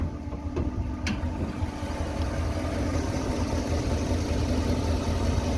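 An old farm truck engine idles quietly and steadily in a low, even drone, with a faint possible tick from a small exhaust manifold leak and a couple of brief clicks near the start.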